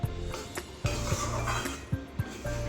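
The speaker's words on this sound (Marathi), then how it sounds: "थोडासा तांबूस रंग येईपर्यंत ते चांगलं भाजून घ्यायचं" Besan (gram flour) roasting in a pan, heard as a metal spoon scraping and knocking against the pan in irregular clinks and taps, close and moderately quiet, with no speech.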